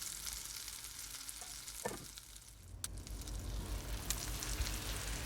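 Cabbage cooking down in a pan gives a continuous soft sizzle and occasional stirring clinks, fairly quiet and close, with no voices.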